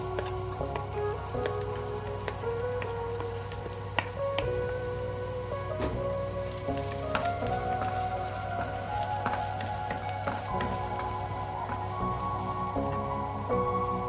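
Onion frying in a pan with garlic, green chilli and curry leaves for egg bhurji makes a continuous crackling sizzle with fine popping, steady for the whole stretch while soft background music plays beneath it.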